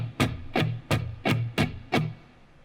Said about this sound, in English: after you're comfortable with that, you add upstrokes.